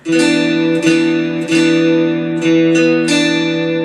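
A chord strummed repeatedly on a twangy three-string cigar box guitar, each strike ringing into the next, loud and close.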